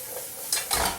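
Vegetables and shiitake mushrooms stir-frying in a hot pan, two quick scraping stirs with a soft sizzle underneath, close and brief.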